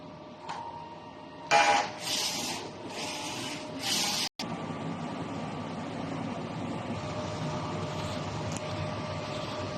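A DTF printer runs a nozzle test, with a few bursts of whirring carriage movement followed by a steady mechanical hum.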